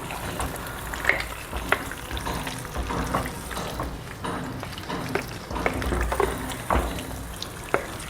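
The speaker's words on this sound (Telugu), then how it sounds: "ఇప్పుడు రొయ్యలు వేసాం కదండి, కలుపుకోవాలి మంచిగా. మసాలా అంతా రొయ్యలకి కలిసేలాగా." Prawns fry in masala in a pan while being stirred, a moderate crackling sizzle broken by repeated clinks and scrapes of a spoon against the pan, close and alone.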